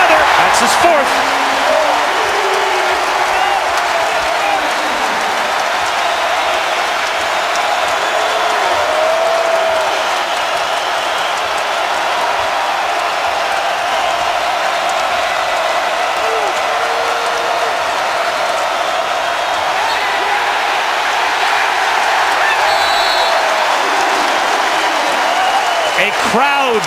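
A packed college basketball arena crowd roars in a steady, dense wall of cheering and applause during a Michigan versus Illinois game, sustained and loud for the whole span with occasional whoops.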